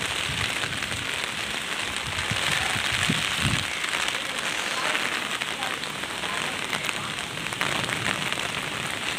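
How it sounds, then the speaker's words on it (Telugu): A sudden downpour of rain after a gust of wind, hissing steadily and loudly throughout, with a brief low rumble partway through. "సడన్గా పడింది వర్షం."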